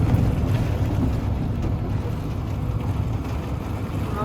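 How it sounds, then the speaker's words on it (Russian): Strong storm wind buffets a cable car at Kok Tobe in Almaty, a steady loud rushing roar with low rumbling gusts that stays constant throughout, without speech. "Да, ветер наверху нереальный"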